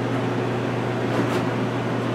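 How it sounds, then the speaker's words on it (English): A hooded hair dryer runs on medium-high heat, giving a steady, close, even whooshing hum with a constant low tone and no variation across the short stretch. "So it's under the dryer."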